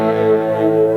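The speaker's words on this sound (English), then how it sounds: "with this Holy Grail reverb" Electric guitar played through a Holy Grail reverb pedal on its flurb setting rings out as a loud, sustained, shimmering chord with a dense, floating wash of harmonics.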